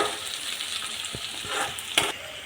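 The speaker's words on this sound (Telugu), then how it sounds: "కరివేపాకు కూడా వేసేస్తున్నా. ఆ 3 కలిపి వేయించుకుందాం. ఇంకా కొంచెం వేగాలండి." Curry leaves and spices fry in a pan for a village-style egg and dried-fish curry, giving a steady, close sizzle broken by a few sharp stirring scrapes and clicks; no one speaks.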